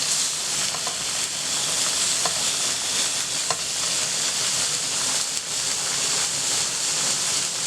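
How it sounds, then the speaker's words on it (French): Salmon fillet frying skin-side down in a hot pan with no added fat, a loud continuous sizzle with occasional crackles, close and steady, no talk. "dans une poêle chaude, on va mettre le saumon côté peau, sans ajout de matière grasse"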